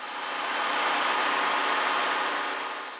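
A car engine runs steadily while tap water is sprayed into it, giving a continuous broadband rushing, hissing drone that swells and fades slightly over a few seconds, fairly close and with no talking.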